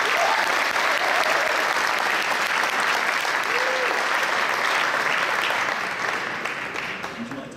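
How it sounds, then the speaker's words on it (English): A large crowd applauds at the opening ceremony of the 2014 FISU World University American Football Championship, with dense, sustained clapping filling the hall throughout and only beginning to thin out toward the end. "An applause, please"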